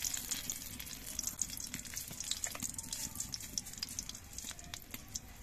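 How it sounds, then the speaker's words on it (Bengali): Dried red chillies, broken into pieces, frying in hot oil in a wok while a bottle gourd dish is prepared, a faint, steady hiss and light crackle heard close but quietly throughout, without talking. "এবার এই কড়াইয়ের তেলের মধ্যে আমি দুটো শুকনো লঙ্কাকে 4 টুকরো করে দিয়ে দিচ্ছি।"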